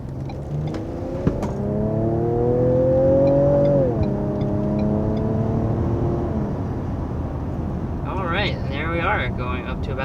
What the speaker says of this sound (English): Going up to about 60 miles per hour with this Edge ST